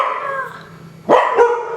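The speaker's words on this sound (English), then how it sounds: "The dogs want to discuss also." Dogs bark indoors, a drawn-out whine or yelp followed by two sharp, loud barks close to the microphone, with no talking.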